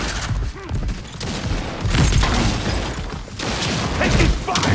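Dense, sustained gunfire in the Gears of War E-Day shooter, bursts of rapid shots overlapping with booming impacts and mechanical clatter, loud and continuous throughout with occasional voices in the mix.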